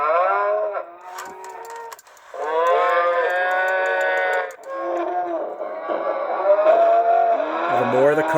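Motion-activated 1990s toy cows in a toy car moo repeatedly in electronic, tonal bursts, loud and close, overlapping one another with brief pauses between calls.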